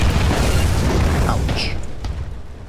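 A tank cannon shot in War Thunder fires at an enemy turret, a loud deep boom with a rumbling low-end tail that fades over about two seconds, with a brief metallic impact ring following.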